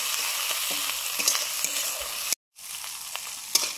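A spice paste of turmeric, chili paste and cumin fries in a pan, a close steady sizzle with light ticks and scrapes of stirring, cut by a short silent gap before the frying resumes.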